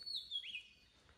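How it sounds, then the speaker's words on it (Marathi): A single quick, high bird chirp with a short trill, faint and somewhat distant against a quiet background at the Rajwadi hot water springs in Konkan. "इथे आपल्याला पक्ष्यांचा आवाज देखील ऐकायला येतोय."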